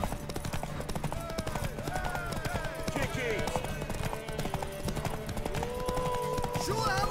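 Rapid clip-clopping hooves of a galloping horse race on through a Witcher 3 horse race, a dense, continuous rhythmic pounding heard close up with voices shouting over it.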